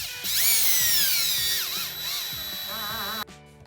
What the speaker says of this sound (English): I'm going to grab my drill. I'm going to run a screw in one of the 2 holes